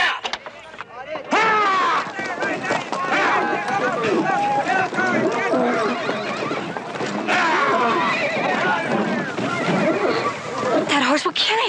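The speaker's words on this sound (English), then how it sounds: "That horse will kill him." A bucking horse neighs loudly and repeatedly while hooves pound and thud in a chaotic, continuous rush, with shouting voices mixed in throughout.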